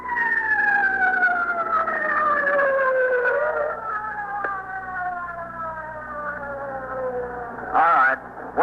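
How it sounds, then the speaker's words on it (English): An ambulance siren wails continuously through a city street scene in a police drama, its pitch sliding steadily downward as it passes, with a short louder burst near the end over a low traffic rumble. "The ambulance is just coming up here."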